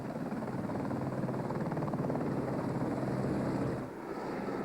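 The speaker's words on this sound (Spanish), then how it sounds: "Al principio el equipo de minería fue traído por helicóptero" Helicopter flying to carry in mining equipment, a steady loud rotor chop and engine roar that dips briefly near the end, alone with no talk.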